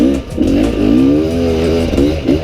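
Enduro dirt bike on a loose soil track, its engine revving loud and close in quick rising and falling bursts under careful throttle, with no voices.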